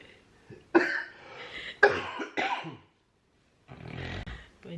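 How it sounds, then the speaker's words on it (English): A person with COVID-19 coughs in several harsh, loud bursts, close up, with a short pause before a final rough, grunting cough. "clearly you guys can see he's still coughing, but it mainly happens when he speak."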